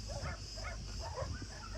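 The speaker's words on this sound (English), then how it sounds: "Happy puppies." Puppies whimper and yip softly in a short burst of high, wavering cries over a steady background hum.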